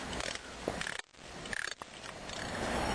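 Wrench or ratchet mechanism clicking as the bolt holding a touring motorcycle's highway bar to the frame is loosened, short close metallic ratcheting bursts with brief pauses, no talk.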